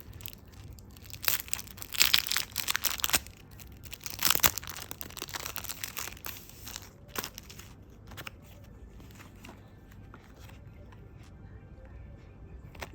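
Crinkly plastic packaging of nail stickers being torn and opened up close, with bursts of crackling and crumpling in the first half that fade to quieter rustles.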